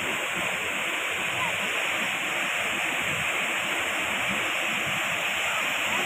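A flooded river rushes past in a steady, loud roar of flowing water, continuous and close throughout with no clear breaks, and a voice may be faintly present beneath it.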